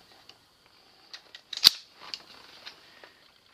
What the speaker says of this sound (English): Lock the bolt back to the rear.